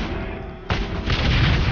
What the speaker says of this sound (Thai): ยิงระเบิด